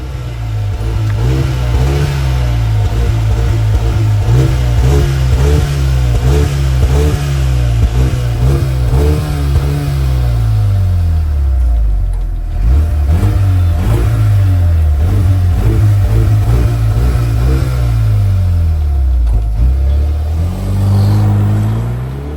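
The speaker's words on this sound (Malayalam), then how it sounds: "നമുക്ക് അവസാനിപ്പിക്കുന്നതിന് മുമ്പ് നമ്മുടെ എക്സോസ്റ്റ് നോട്ടൂടെ ഒന്ന് കേട്ടിട്ട് അവസാനിപ്പിക്കാം" A Mercedes-Benz GLA with a 306 bhp 2-litre twin-scroll turbo petrol engine revs repeatedly, its loud, close exhaust note rising and falling in several throttle blips with short idle pauses between, and no talking.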